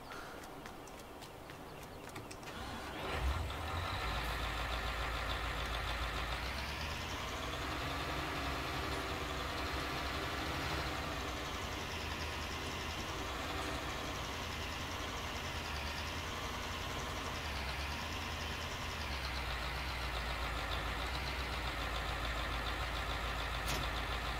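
A big tractor engine runs steadily in Farming Simulator 19, a continuous loud mechanical drone with a low rumble that holds level throughout, with no talk.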